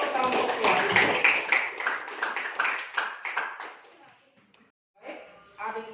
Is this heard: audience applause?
yes